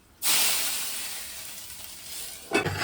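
Mustard seeds and spices temper in hot oil for a Mangalorean tender bamboo shoot (kanile) curry, breaking into a loud, steady sizzle that hisses on and then flares again near the end.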